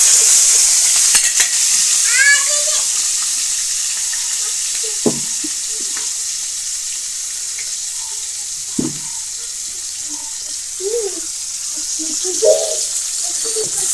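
Onions frying in a pan, a low steady sizzle under occasional sharp knocks and clinks of utensils, with a brief faint tonal sound early on.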